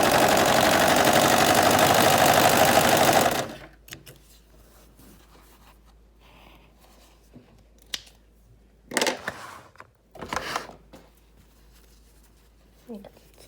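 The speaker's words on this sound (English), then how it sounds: "and you'll just sew down both of those sides." A sewing machine stitching the raglan sleeve seams of pajamas runs steadily and loudly up close for a few seconds, then stops, leaving a quiet room with a few scattered handling noises.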